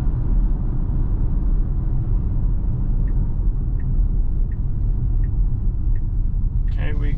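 Steady low road rumble inside a Tesla Model Y Performance driving at night, continuous and even throughout, with a few faint ticks and a brief higher tone near the end.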